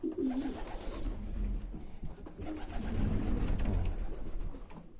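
Homing pigeons coo steadily in a loft, soft overlapping throaty calls close by, with wing rustles and shuffling throughout.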